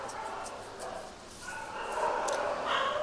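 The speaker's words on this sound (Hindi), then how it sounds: "कुत्ते भौंक रहे हैं" Several dogs bark and yip in bursts at a moderate distance, with a whimpering edge, over a continuous background hum.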